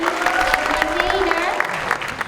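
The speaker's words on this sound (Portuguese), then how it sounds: "Um aplauso pro Shani." Applause from an audience at a summer music and performance camp, steady dense clapping running through the whole stretch with a voice and some tonal sound faintly under it.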